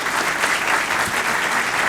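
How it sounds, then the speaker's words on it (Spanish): A conference audience applauds a speaker, a steady loud wash of clapping from a large crowd that fills the whole moment. "Un gran aplauso para nuestra conferencista"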